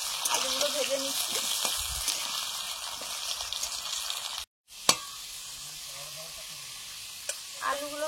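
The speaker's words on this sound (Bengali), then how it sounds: "আলুগুলো ভেজে নিচ্ছি।" Potatoes frying in oil in a pan for a spicy fish curry, a steady close sizzle with a brief silent break and a few clinks of stirring.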